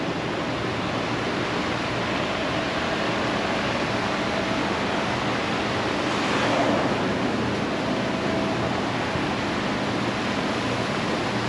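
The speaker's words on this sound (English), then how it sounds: "There's the ocean." Waves wash in Biosphere 2's indoor saltwater ocean, a steady broadband hiss of surf that swells slightly midway, continuous and even with no voices.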